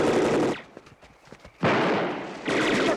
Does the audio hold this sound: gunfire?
yes